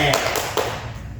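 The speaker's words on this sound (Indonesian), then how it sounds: "Oke, tepuk tangan dulu semua." A small classroom group in a counselling session claps together in a short, brief burst of a few sharp, close claps that fades quickly, with some voices mixed in.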